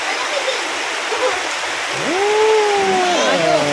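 Steady rain falls in a broad, even hiss, rushing like running water and fairly loud, while someone speaks over it near the end.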